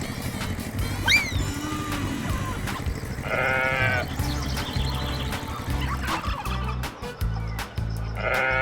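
Sheep bleat in several short, close calls, mixed with other farmyard animal cries and no human voices.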